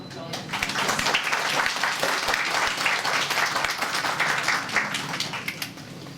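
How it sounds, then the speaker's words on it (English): After a talk on Bengal textiles at a weavers' studio, the audience breaks into dense, close clapping that swells quickly and holds steady, with a few voices mixed in. "Firstly, a big round of applause."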